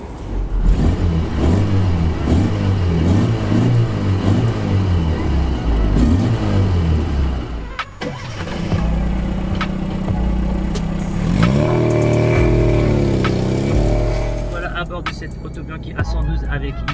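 A small Autobianchi A112 engine hums and revs as it drives through central Paris, rising in pitch through the gears, with people talking inside the car.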